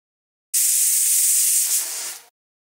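A pressure cooker holding vegetables and lentils for bisi bele bath lets out one steady, loud steam whistle and hiss lasting under two seconds, then cuts off abruptly into silence.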